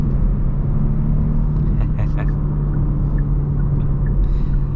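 A 2023 Genesis G80 3.5T in sport mode gives a steady, loud low engine and road drone from inside the cabin, continuous throughout with faint transient clicks above it.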